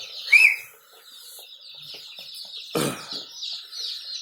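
Rhode Island Red and Australorp chickens at a hatchery, giving a brief high call early on, then a louder cluck or squawk, over a steady background of chirping birds.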